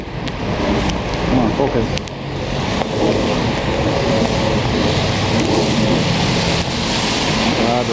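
Steady rain and drizzle patter on a truck cab while it drives, with road rumble mixed in, constant and fairly loud throughout, and someone speaking briefly over it.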